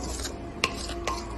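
A spoon scrapes and stirs thick watermelon halwa with sugar and cardamom powder in a pan, two short scraping strokes over a soft background hum.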